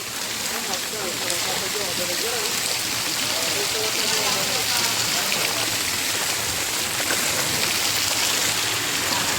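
Heavy rain pours down in a flooded Gujarati village, a dense, steady hiss of water that never lets up, loud and close, with faint voices briefly underneath.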